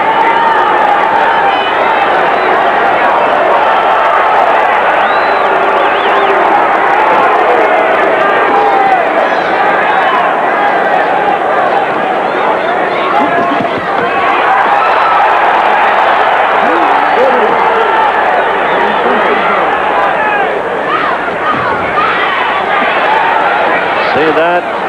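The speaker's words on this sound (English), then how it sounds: "This crowd goes crazy if there's even an appearance of connecting." A boxing arena crowd at the Larry Holmes vs Tex Cobb heavyweight fight roars steadily and loudly throughout, a dense wall of cheering and shouting that never drops away.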